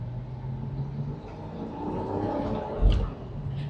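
A Porsche Boxster Spyder engine cruising at about 27 mph gives a steady low rumble with faint road noise and a brief louder swell near the end, with no one talking.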